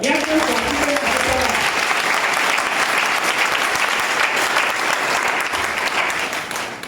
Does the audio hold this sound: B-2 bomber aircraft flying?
no